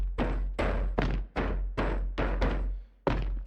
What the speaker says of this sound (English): We solo out these footsteps.